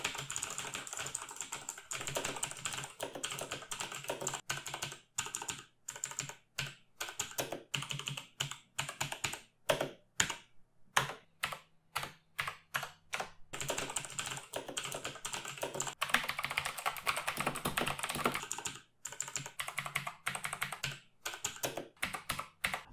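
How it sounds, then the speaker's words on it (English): Clicky Razer green switches on a BlackWidow Elite keyboard, heard in sustained rapid typing with bursts of crisp close keystrokes and a few short pauses, with no voices. "Now let's listen to the Razer green switches on the BlackWidow Elite."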